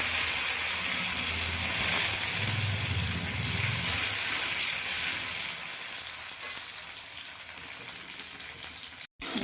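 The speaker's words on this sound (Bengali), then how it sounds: "তেল গরম হয়ে গেছে, আমি কাজু কিশমিশটা ভেজে নেব।" Cashews and raisins frying in hot oil in a kadai, a continuous close sizzle with some bubbling early on that gradually softens, ending with a brief cut, no talking.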